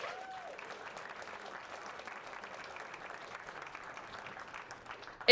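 An audience at a meetup gives the founders a steady round of applause, a continuous wash of clapping at moderate distance that holds evenly throughout.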